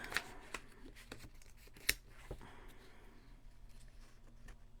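Paper being cut with scissors in a crafting project, a string of soft, close snips and rustles at an uneven pace over a quiet background.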